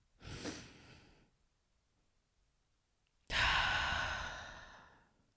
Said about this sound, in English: On the count of 3, we're going to take a deep breath together.